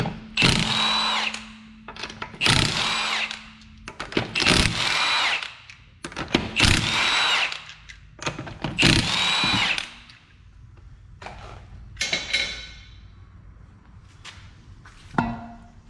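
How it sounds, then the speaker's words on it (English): An impact tool on a 2011 Honda CR-Z loosens 19mm wheel lug nuts in loud, close bursts of whirring, each lasting a second or two, separated by short pauses and clinks. "first step obviously is going to be removing the wheel. These are 19mm lug nuts."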